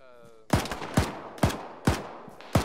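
Gunshots in an ArmA video game firefight at construction buildings, five sharp reports spaced about half a second apart, loud and close with short decaying tails and no talk over them.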